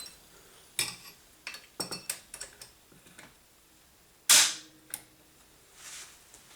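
Dry-fire trigger pulls on an unloaded Savage rifle with an Accutrigger, sharp isolated mechanical clicks and one louder snap among small ticking handling sounds, close and otherwise quiet.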